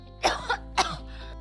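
A person with flu symptoms gives two short, harsh coughs close up, a quick pair followed by a second burst and a slight throaty catch, with no talking.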